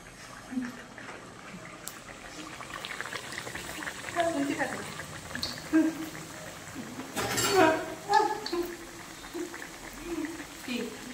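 A moglai paratha fries in oil in a kadai over a slow flame, with steady close bubbling and crackling that swells midway, while a person talks over it.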